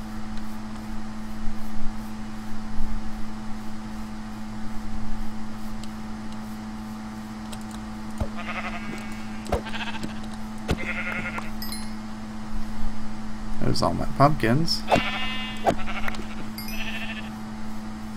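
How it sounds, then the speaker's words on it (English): Sheep bleat in the Minecraft video game, several cries rising in the second half over steady background game noise, with someone talking briefly. "There's so many sheep."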